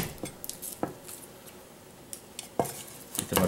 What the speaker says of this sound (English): Give them a quick chop